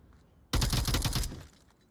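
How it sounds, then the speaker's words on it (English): Rapid automatic gunfire in the VR shooter Onward, a burst of closely spaced loud shots lasting under a second that starts abruptly out of near silence and then fades into a short tail. "after hearing those gunshots"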